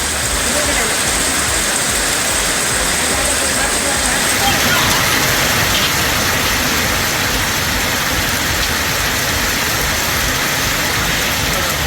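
Heavy nighttime rain in Tiruvannamalai district pours down as a dense, unbroken hiss, loud and steady throughout, with a voice speaking underneath.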